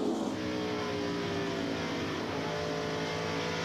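NASCAR stock cars at the 2003 Subway 400 rev hard on the throttle, a loud, dense, continuous engine roar that holds steady from start to finish with no voices.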